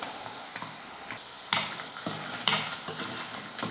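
Dried red chillies dry-roasted and tossed in a pan, faint rustling and scraping with a couple of sharper clinks, quiet and close.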